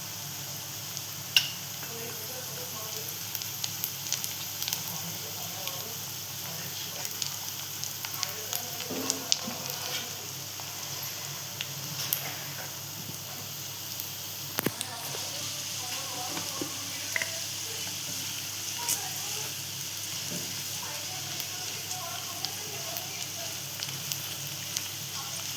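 Asafoetida and turmeric sizzling in hot oil while cooking a spicy val bean curry, a steady crackling fry throughout with occasional pops and stirring, under quiet speech.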